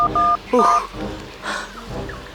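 Telephone keypad dialing tones, a few short bright beeps in quick succession at the start, followed by brief talking.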